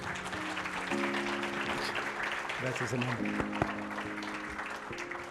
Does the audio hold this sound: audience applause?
yes